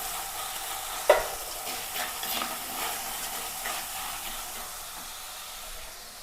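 Crushed onion, ginger and garlic with cut green chilli frying in a pan for a stingray curry, a steady soft sizzle with a sharp clatter near the start and faint stirring scrapes throughout.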